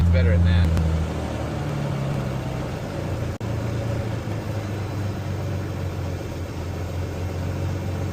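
A Cirrus SR22 Turbo aircraft engine runs steadily at about 1700 RPM, a constant droning hum heard from inside the cabin, with a brief rise near the start.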